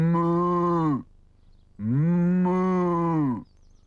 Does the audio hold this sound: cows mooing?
yes